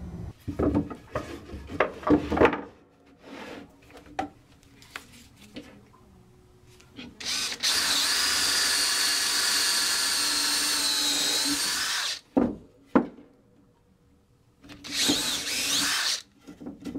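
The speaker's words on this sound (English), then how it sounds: "The center arms of each of these assemblies is going to have an anchor line hole drilled in one end." A power drill bores an anchor line hole into one end of the wooden center arm of a V-board silhouette decoy assembly. Clattering handling noises come first, then a loud, sustained whine of about four seconds, and later a shorter burst.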